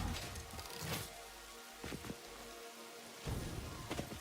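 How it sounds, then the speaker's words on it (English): Rain falling in the video game Satisfactory, a steady broadband hiss of drops that swells and dips, with brief louder bursts layered over the wash. "Oh, we have rain."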